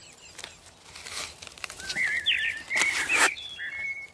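Blackbird calls played from a phone speaker at a hidden hunting blind: a few short whistled chirps and trills alone, fairly close, with some rustling and brief broadband bursts between them.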